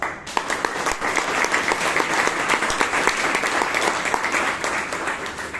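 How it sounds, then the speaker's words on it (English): Audience applause at a Toastmasters club meeting in Bangalore, a steady dense patter of many hands clapping throughout, fairly close and even in loudness, with no talk over it. "A round of applause."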